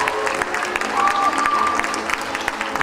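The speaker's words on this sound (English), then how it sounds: "One more time, please, big applause." Audience clapping at the close of a European dance championship jazz formation event in Novi Sad, a continuous crowd of applause with a faint voice and a brief tonal whistle mixed in.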